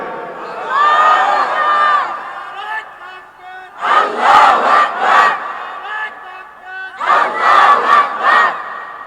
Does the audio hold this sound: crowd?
yes